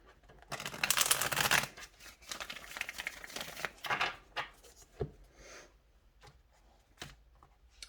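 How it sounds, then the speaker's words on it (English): A deck of tarot cards is shuffled by hand in a quiet room, a dense riffling burst followed by softer taps, slides and scattered clicks of the cards being squared. "Let me shuffle just one more time"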